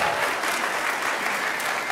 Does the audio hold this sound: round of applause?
yes